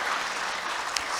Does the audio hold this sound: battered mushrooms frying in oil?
no